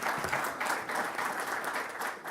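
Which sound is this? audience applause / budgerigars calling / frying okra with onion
audience applause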